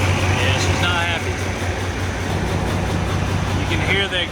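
A Kenworth W900 truck engine runs unevenly with a steady low exhaust drone and a slightly uneven pulse, misfiring as if a valve were leaking, with a voice talking briefly over the engine.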